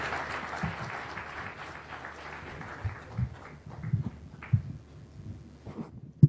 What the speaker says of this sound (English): Why don't we give him another hearty clap for comments well made.